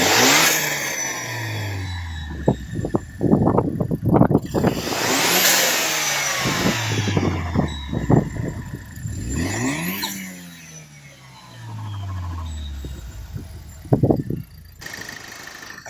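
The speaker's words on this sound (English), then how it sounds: "Now we'll give it a little rev to show everyone what it sounds like." A Saturn sports car with a GM LNF-tuned engine revs repeatedly, sharp throttle blips rising and falling in pitch between short idle stretches, loud and close throughout.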